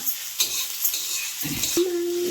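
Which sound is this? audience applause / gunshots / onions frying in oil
onions frying in oil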